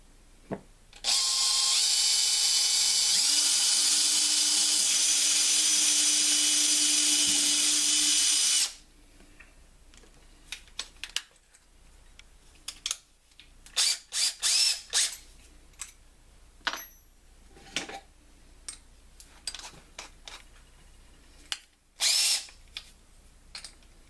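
A power drill whirs loudly and continuously for several seconds while boring a pilot hole into material, then stops, followed by scattered clicks and handling noises.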